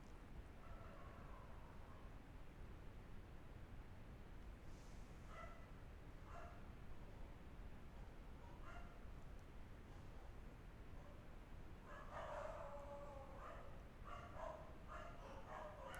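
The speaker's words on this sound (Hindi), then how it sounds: "मैं जाग रहा हूँ और गली के कुत्ते भी जाग रहे हैं" Street dogs barking at night in a residential lane, a few scattered barks and yips at a distance over a steady low background hum, faint, with no voices.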